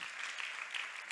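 A church congregation claps together in a soft, sustained patter of many hands that sounds fairly distant and faint for about a second, with no talking.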